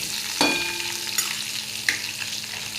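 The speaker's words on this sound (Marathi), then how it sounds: "हे लसूण टाकून घेऊ आता आपण। चांगलं परतू द्यायचं त्यांना।" Garlic frying in a pan for a ridge gourd stir-fry, a steady soft sizzle with a few sharp clinks of a spoon against the pan, no talking.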